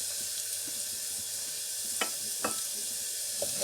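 Onions, garlic and ginger fry in a pan for masoor dal, giving a steady hiss of sizzling oil with a few sharp scrapes and taps of a stirring spoon.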